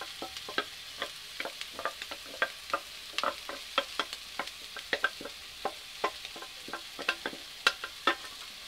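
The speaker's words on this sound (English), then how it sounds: "We'll put in the rice first because they have raw egg in it," Stale rice mixed with raw egg fries in a pan while a utensil taps and scrapes in quick, regular strokes. The strokes are sharp and close over a quiet background sizzle.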